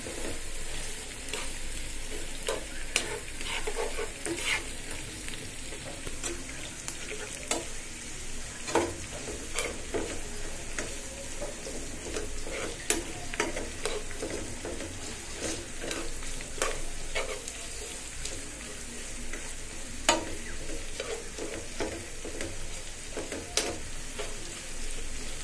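Onion, green chili and garlic fry in a pan with bitter gourd, giving a continuous crackling sizzle dotted with regular spatula scrapes and clicks, close and steady.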